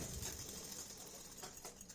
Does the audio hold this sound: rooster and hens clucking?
no